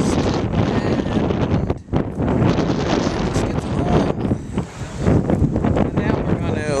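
Heavy wind buffets the microphone at the beach in Seaside Heights in loud, ragged gusts, a constant roaring rumble with sharp bursts and brief dips.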